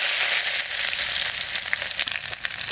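Garlic and nigella seeds tempering in hot oil, a loud, dense, continuous sizzle with scattered crackles and pops, heard up close with no talk.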